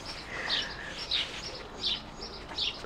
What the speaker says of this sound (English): Oh, the birds are in full song today.